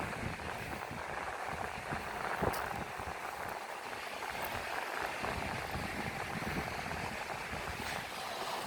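Ocean waves on the Norwegian west coast make a faint, continuous wash of surf that stays fairly even and distant, with no other clear sounds over it.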